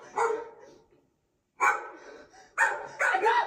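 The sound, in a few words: dog barking aggressively at a woman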